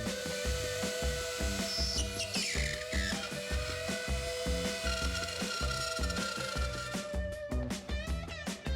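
Dremel rotary tool at 30,000 RPM cutting a hole in plasterboard, a steady high-pitched whine with rapid rhythmic chattering pulses, loud and close, with no talking.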